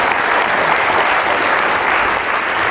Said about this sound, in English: we just want to give them a round of applause for arranging such a great event